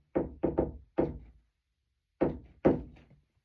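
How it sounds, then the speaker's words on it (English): Knuckles rap on wood in two bursts: a quick group of four knocks, a pause, then two more, close and clear with no talking. "Knock on wood."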